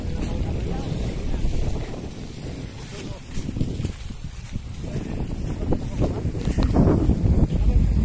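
Steady low engine rumble of a motorboat off a white sand island in Masbate, Philippines, with wind buffeting the microphone, continuous and fairly close throughout.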